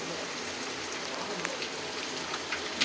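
Onions and tomatoes sizzle in a pan with ginger, garlic, mint and coriander for chicken biryani, a soft, continuous crackling hiss with a few small pops.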